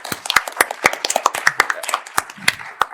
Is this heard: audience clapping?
yes